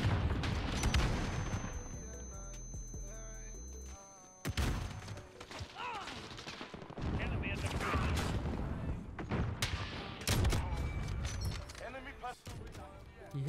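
Gunfire in a Modern Warfare Ground War match, with rapid bursts of shots, mechanical clanks and thuds over layered battlefield noise, mixed with speech-like voice sounds.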